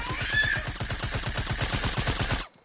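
A rapid burst of SMG fire in a shooter video game, a loud, steady stream of evenly spaced shots rattling for over two seconds and then cutting off abruptly to silence.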